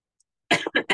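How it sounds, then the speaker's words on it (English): A few harsh coughs from a person recovering from a cold, in quick succession after a short silence, close and fairly loud. "I'm recovering from a cold, so I've got a cough going."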